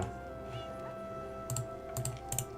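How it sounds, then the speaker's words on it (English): A phone resting on a table rattles in a few faint, brief bursts of clicky buzzing over quiet background hum. "Apologies for that noise, that's my phone resting on the table."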